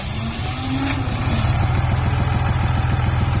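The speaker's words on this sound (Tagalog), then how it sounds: "ayan guys ha, umandar na yung kanyang makina" A repaired motorcycle engine that had lost compression and overheated starts and settles into a loud, steady running rhythm, close by, with no talk over it.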